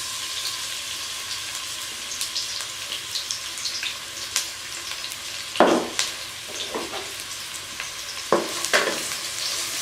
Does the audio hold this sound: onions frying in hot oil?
yes